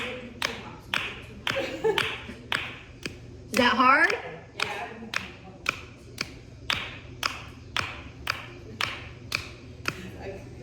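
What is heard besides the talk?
hands clapping to the beat during a rebounder workout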